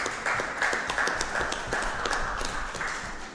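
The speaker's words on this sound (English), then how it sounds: "So give yourselves a round of applause." Clapping from attendees at a constitution reform meeting in Belle Garden, Trinidad and Tobago, fairly quiet and scattered, with an uneven patter of hands at a moderate distance.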